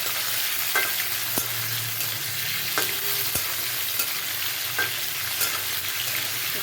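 Soaked chickpeas and potatoes are stir-fried in a pan, with a steady sizzle broken by occasional scrapes and clicks of the stirring spoon, and no one talking.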